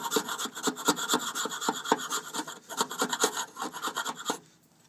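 Rhythmic, close scraping strokes of a chisel scraping an old head gasket off a Victa lawn mower engine, repeated steadily for several seconds before stopping.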